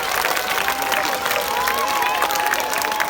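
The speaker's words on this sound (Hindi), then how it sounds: "सारे groups के लिए एक बार जोर से तालियां" A school crowd at an Independence Day celebration applauds the performing groups, a dense continuous wash of clapping and cheering that stays loud and even throughout.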